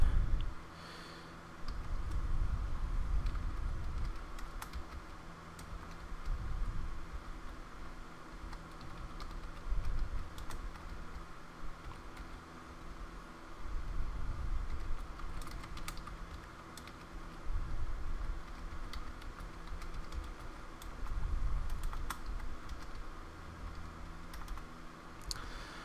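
Code being typed on a computer keyboard, steady bursts of close keystrokes coming in waves with short pauses between them, no talking.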